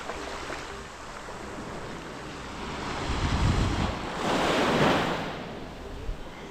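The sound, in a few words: waves on Cat Co beach, Cat Ba Island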